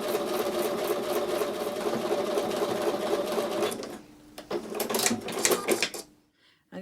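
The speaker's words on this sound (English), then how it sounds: "Now I'm going to take that over to the sewing machine and sew on top of the drawn line" A sewing machine stitches a quilt block in one steady, fast mechanical run for about four seconds, then stops, leaving clicks and handling noises before silence.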